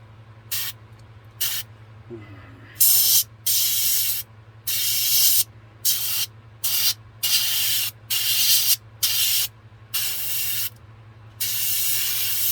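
Short bursts of spray paint lay a light coat on a model car, about a dozen hissing blasts separated by brief pauses, with a low steady hum running underneath.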